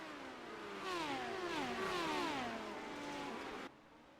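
Midget race cars racing at Limaland, several engines whining and shifting pitch together as the cars pass, rising in loudness and then fading, heard from a distance with no voices.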